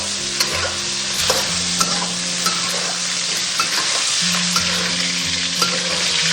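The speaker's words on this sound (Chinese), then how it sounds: "接着我们就可以下入羊肉煸炒，先给它煸炒哈，煸炒个4、5分钟。" Lamb being stir-fried in an iron wok for a braised lamb rib rice dish gives a steady, loud sizzle with regular scrapes and clinks of the spatula stirring, and no talk.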